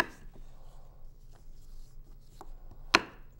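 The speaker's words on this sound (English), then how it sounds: "I'd like to take this apple and just make some nice thin slices." Knife slicing a fresh apple into thin slices on a cutting board, several soft, sparse cuts with one sharper chop near the end, quiet and close.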